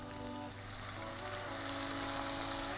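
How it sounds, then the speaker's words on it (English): Chopped red chili being stirred into a hot pan for Thai-style spicy shrimp noodles, giving a steady close sizzle and frying hiss with a low hum beneath, growing slightly louder toward the end. "And now I'm going to add the chopped red chili and give it a good mix."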